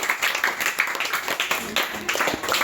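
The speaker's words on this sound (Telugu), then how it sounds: "అందువల్ల క్లాప్స్ కొట్టండి ఒకసారి" Students in a classroom clap together in a brief burst of applause for a classmate's successful experiment, a dense patter of many hands at moderate loudness.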